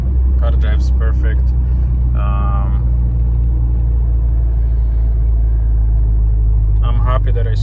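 A Mitsubishi Evo 8 with newly replaced rear differential bushings drives on the road, its engine and tyres making a steady, loud low rumble inside the cabin, with a few brief higher sounds on top.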